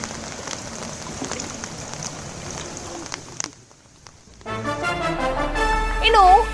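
Dense heavy rain in Karnataka patters and crackles for several seconds, cuts to near silence, then a voice speaks over a low rumble and a few tones.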